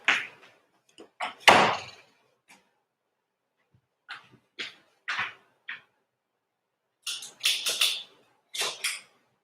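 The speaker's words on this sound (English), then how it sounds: "I'm gonna close the door." Door pushed shut indoors, heard as a handful of short knocks and bumps scattered across a few seconds, fairly close and moderately loud, with brief gaps of quiet between them.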